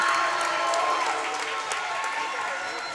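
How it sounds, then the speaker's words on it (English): Steady applause and crowd noise fill a high school volleyball gym in Snohomish as home fans cheer the Panthers against Oak Harbor, a dense continuous roar throughout. "Crowd is just loving it right now here in Snohomish."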